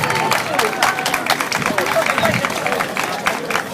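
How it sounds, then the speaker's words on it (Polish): Crowd applause at a half marathon prize ceremony in Żywiec for a men's overall winner: dense outdoor clapping and crowd murmur, with an announcer talking over it. "Gorące brawa"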